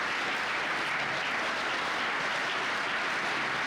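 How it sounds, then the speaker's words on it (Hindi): An audience at an Indian education board gathering with school managers breaks into loud, hearty applause, a thick continuous clatter of many hands filling the room without talk. "इसके लिए एक बार और जोरदार ताली से इनका भी धन्यवाद।"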